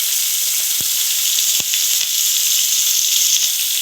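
Cauliflower florets with turmeric fry in hot oil, a steady close sizzle and hiss running the whole time, broken by a couple of sharp clicks or pops from the pan.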